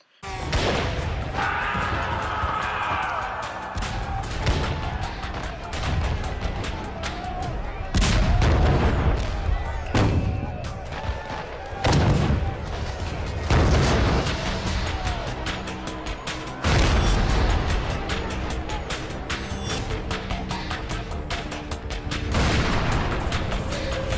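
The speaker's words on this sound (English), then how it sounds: "The shots that killed Davy Crockett and his fellow settlers echoed across America." Gunfire and artillery recreate the Mexican army's siege of the Alamo: loud, dense booms and crackling volleys of shots roll on almost continuously, with heavy blasts recurring every few seconds.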